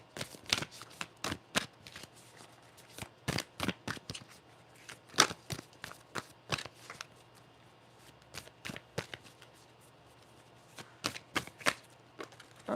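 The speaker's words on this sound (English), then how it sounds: "The next card that falls when I shuffle is for you, Deepak." A deck of cards shuffled by hand in repeated bursts of riffling and snapping, close and crisp, with short pauses between runs and no talking.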